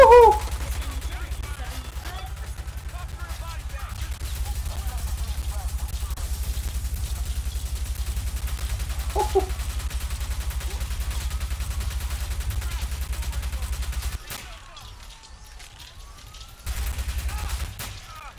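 Gunfire in the Watch Dogs PC game during a police shootout, a continuous loud rumbling barrage with scattered shots and a sudden drop-off near the end before it resumes, with a voice speaking briefly.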